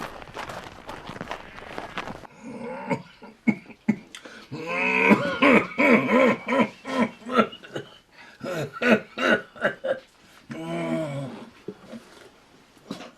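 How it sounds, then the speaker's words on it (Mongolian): A person coughs and clears their throat repeatedly, close by and fairly loud, in a rural Mongolian herding household during a harsh zud winter, with rough voiced throat sounds spread across the stretch. "Та сүрхээ ханиалгаж байна шүү."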